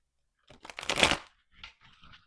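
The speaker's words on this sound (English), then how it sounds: "Oh, that's not a pretty shuffle." Tarot cards are shuffled by hand in a short, uneven burst of riffling and flicking, close and fairly quiet, with a few softer card taps after.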